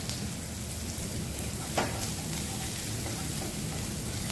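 Shallots, garlic and red and green bird's-eye chilies stir-fry in a little oil, giving a steady, even hiss of sizzling with one faint clink partway through and no talking.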